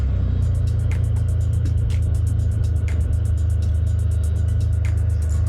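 A Can-Am Spyder three-wheeled motorcycle cruises through Sea Isle City, New Jersey, its engine a steady low drone with wind noise over it, close and constant, with faint periodic ticks and clicks.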